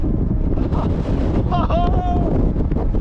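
Heavy wind buffeting the microphone on a mountain summit with a constant low roar, and a voice briefly heard through the gusts.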